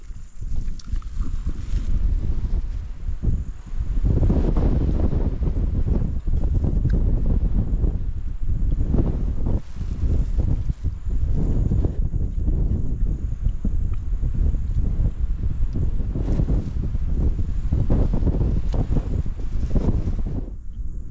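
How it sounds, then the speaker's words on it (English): A strong headwind blows into the microphone outdoors in a Kenyan desert, producing heavy, low, rumbling buffeting that surges and drops in loud gusts throughout, with no talking. "the headwind is so freaking strong today"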